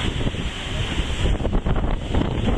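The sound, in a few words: large ocean waves and wind at sea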